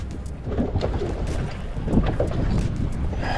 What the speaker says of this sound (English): we're definitely in the wind here